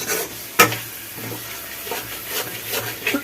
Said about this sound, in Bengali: এই সমস্ত মশলা দিয়ে ভালোভাবে কষতে হবে যতক্ষণ না মশলাগুলো থেকে তেল ছাড়ছে